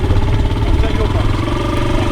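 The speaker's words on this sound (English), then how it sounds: "The revs feel a little bit high at the moment because the engine's still a little bit cold" A motorcycle engine idles a little high while still cold, a close, steady, throbbing rumble that runs through the whole moment without a break.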